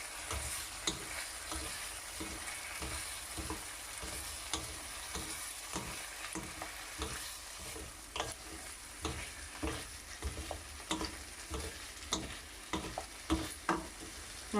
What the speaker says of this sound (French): Et on continue à mélanger jusqu'à que les œufs brouillés se forment.